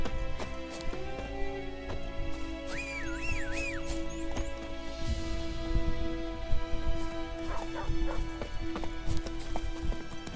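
Roach, the horse in the video game The Witcher 3, gallops with rapid rhythmic hoofbeats under a sustained musical score, with a whistle-like glide partway through.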